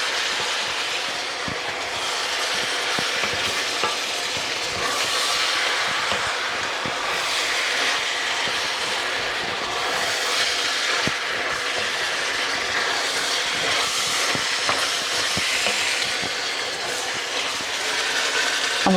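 Lamb curry being stirred through in a pan after chilli, turmeric and coriander powder are added, giving a steady broadband sizzle with dense scraping and clattering textures throughout, fairly loud and continuous with no talking.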